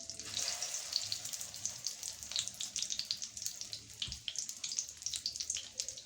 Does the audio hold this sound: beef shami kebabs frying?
yes